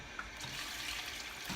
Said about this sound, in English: So I have my bucket and I'm going to add more water.